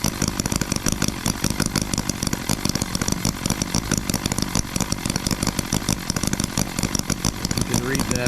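An H 75 engine runs at a low idle of about 1450 RPM while driving a generator, a fast, even mechanical chugging that goes on without a break, close and fairly loud.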